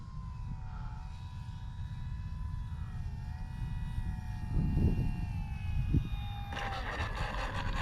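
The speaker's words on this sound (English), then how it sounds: "What a sweet flying plane." An FMS PC-21 Pilatus RC model plane drones steadily overhead with a sustained, wavering whine whose pitch slowly shifts as it flies past on a warm, windy day.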